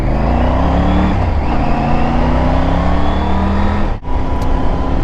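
A 2020 Triumph Street Triple RS three-cylinder motorcycle engine revs loud and close, its pitch climbing and falling in smooth sweeps, with a brief dip just before the end.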